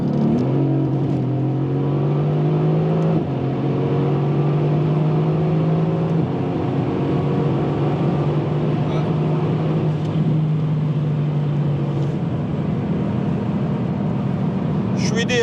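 A Mercedes AMG GT S accelerates hard through the gears with wheelspin, its engine note climbing steadily in pitch with brief dips at each upshift, loud and continuous from inside the car, with a voice speaking over it.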